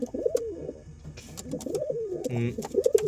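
Pigeons coo in low, warbling phrases close by, overlapping one another with a few soft clicks and rustles in between.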